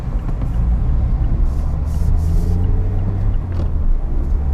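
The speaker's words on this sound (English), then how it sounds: "let's pull up onto an on-ramp and just show you how well it sticks to the road" A 2021 Mazda MX-5 RF GT heard from inside the cabin as it pulls onto an on-ramp, with a loud, constant low engine and road rumble and faint hiss above it.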